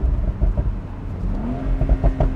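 A Porsche 991.2 Carrera 4S engine and exhaust in sport mode, a deep steady rumble that swells slightly in pitch partway through, close and fairly loud, with no voices.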